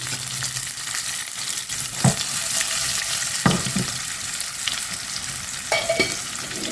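A dried red chili sizzles in hot ghee as a tempering for mango sambar, giving a steady close crackling fry with a few light clinks of stirring.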